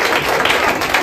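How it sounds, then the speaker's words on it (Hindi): Church congregation claps loudly in a dense, continuous burst of many hands, a short wash of applause with no talking over it. "बहुत जोड़ा ताली बजा"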